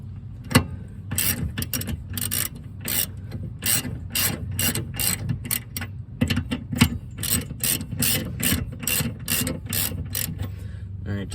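A ratchet wrench clicking rapidly as a brake caliper bolt is tightened on a 1974 Porsche 911, in repeated close bursts of sharp ratcheting with brief pauses between strokes.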